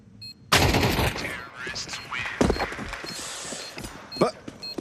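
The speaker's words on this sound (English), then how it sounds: "ZTR finds an AK." AK rifle fire in a competitive shooter video game rattles out in sharp rapid bursts, close and loud, under excited esports commentary from casters.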